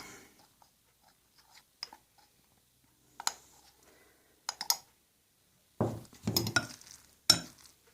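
Semolina and flour being stirred in a bowl: soft scattered clicks and scrapes, then a few louder bursts of spoon scraping against the bowl near the end, close and quiet with silence between.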